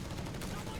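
Dense rapid gunfire rattles without pause in a Company of Heroes 3 battle as a machine gun opens up on riflemen, loud and continuous through the short moment.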